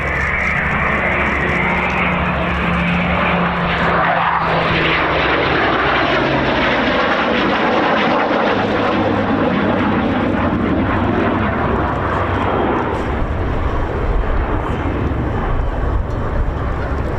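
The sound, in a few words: Spitfire and Typhoon aircraft flying at an air show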